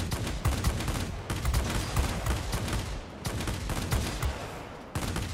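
Rapid aircraft machine gun fire from a Ki-162-III fighter in World of Warplanes, loud dense bursts rattling on for several seconds with brief gaps between them, no talking over it.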